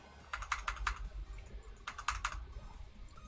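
Two quick bursts of typing on a computer keyboard, each a cluster of crisp key clicks, close and moderately loud over faint room hum, with no talking.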